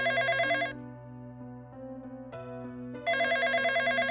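An office desk telephone rings in a repeating electronic pattern, a bright burst of ringing that pauses and then returns, loud and close with no voices over it.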